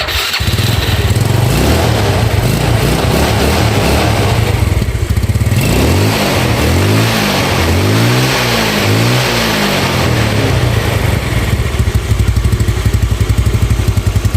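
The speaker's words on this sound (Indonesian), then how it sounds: "Kalau kita ngelepas gas di RPM bawah ya, dia kadang-kadang suka nembak" Yamaha Nuvo scooter engine, fitted with a replacement vacuum part, revving up and down loudly and close, with sweeping rises and falls and occasional popping backfires as the throttle drops at low RPM.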